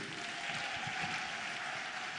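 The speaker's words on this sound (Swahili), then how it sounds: "Hebu tuwapigie makofi." A church congregation applauds for the praise team, with a steady, dense wash of clapping that stays even throughout and sounds somewhat distant.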